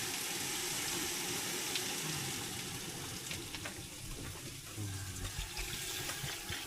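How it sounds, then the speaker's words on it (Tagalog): Water pours steadily into a cooking pot holding sliced bamboo shoots, a continuous close splashing rush with some gurgling, no speech over it. "Lagyan nga po namin ng tubig."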